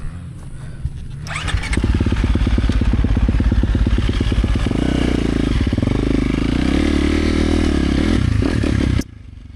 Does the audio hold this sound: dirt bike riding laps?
yes